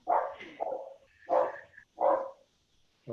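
A dog barking during a conference presentation, four loud, separate barks spaced about half a second to a second apart, close to the microphone with no talk over them.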